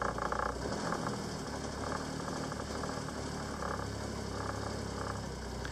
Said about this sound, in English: That's the wood rattling you're hearing there.